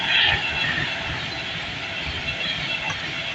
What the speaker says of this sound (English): That's with a 390 Pendolino.